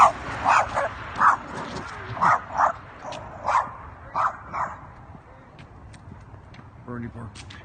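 A dog barks about ten times in quick, fairly close yelps during an outdoor walk, the barks fading to light shuffling and a brief voice at the end.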